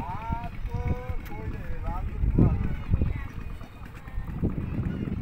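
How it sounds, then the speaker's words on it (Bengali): A small fishing boat heads out on the Padma river near a ferry ghat in Shariatpur, its low engine rumble running steadily beneath nearby voices. "ছোট মাছ ধরার নৌকা বের হচ্ছে।"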